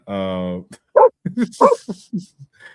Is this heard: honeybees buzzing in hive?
no